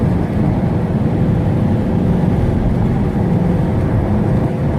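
A 2010 Mercedes C63 with its catalytic converters removed, its engine holding a deep, even, continuous rumble, loud and close throughout, with no talk over it.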